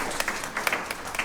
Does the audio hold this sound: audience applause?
yes